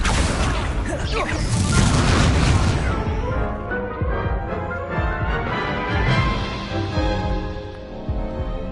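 Spell-combat explosions and magical blasts from the Hogwarts Legacy video game on Hard difficulty: loud, dense, overlapping booms and crashes with whooshes, heaviest in the first few seconds, then a rumbling, echoing battle wash.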